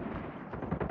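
Dense, continuous gunfire from a Call of Duty: Mobile match, a rapid rattle of shots that grows louder near the end, heard without speech.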